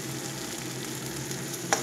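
Crushed ginger and garlic frying in a masala paste with salt and turmeric for a fish curry: a steady, close sizzle throughout, with a brief stir-like click near the end.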